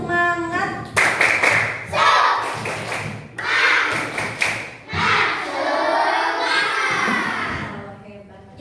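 Elementary fourth-grade class performs a rhythmic spirit clap in bursts of hand claps and thumps, with children chanting along loudly up close in a classroom.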